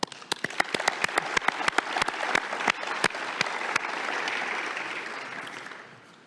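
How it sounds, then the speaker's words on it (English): At a grand opening event, a few sharp, scattered claps quickly grow into full audience applause. The clapping holds briefly and then tapers off toward the end. "You all deserve a big round of applause."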